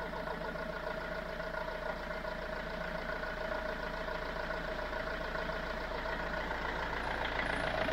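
Engine of a Ciará tracker idling steadily after warming up, a continuous even rumble with a constant hum, close and alone with no talk.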